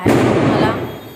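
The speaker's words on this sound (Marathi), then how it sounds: "बाहेरून तुम्हाला आवाज येत असेल फटाक्यांचा खूप जोरजोराचा" Loud Diwali firecrackers burst outside a home during Laxmi Pooja night. One strong report comes through, then a rumbling wash fades over about a second. Faint voices may sit underneath.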